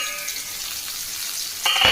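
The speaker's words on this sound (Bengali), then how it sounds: "করলা ভাজা।" Bitter gourd frying in a wok gives a steady, soft sizzle throughout, swelling into a louder burst of hissing near the end, with no voices.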